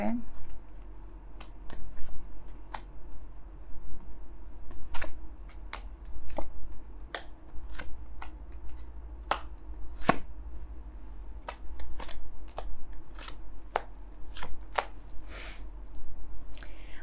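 A deck of tarot cards is shuffled in irregular bursts of crisp snapping and riffling, close and fairly clear over a low background hum, with a voice talking quietly.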